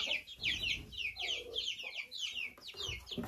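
Adler silver crested dominant chickens, young birds raised at home, cheep and cluck in quick overlapping bursts close by, with no talking.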